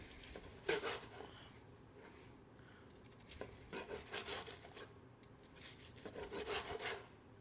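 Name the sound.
knife slicing tomahawk steak off the bone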